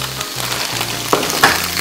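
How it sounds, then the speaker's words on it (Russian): Pressed garlic sautéing in a frying pan, a soft continuous sizzle with a couple of brief sharp pops and spatters, close and steady with no talking. "I'm just gonna press a clove of garlic into this so it can saute."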